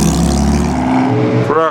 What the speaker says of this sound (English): Here comes the Mexican road race Ferrari, followed by Porsche.